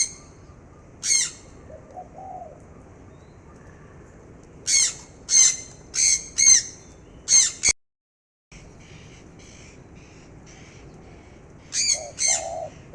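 Captive songbirds in cages call in short, loud, squawky chirps, first a single note, then a quick run of five or so, a brief silence, then a couple more near the end, with no talking.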